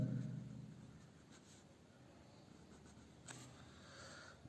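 Quiet scratching of writing by hand during a class, soft and close, with a slightly louder stroke near the start and another a little past the middle against a faint background hum.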